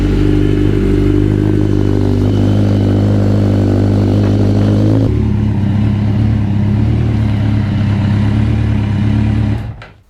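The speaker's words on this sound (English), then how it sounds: "start the bike up, let it circulate for a couple of minutes" A Honda Blackbird CBR1100XX motorcycle engine runs close by at a loud, steady idle with mechanical clatter, then its tone shifts partway through before the engine cuts off at the end.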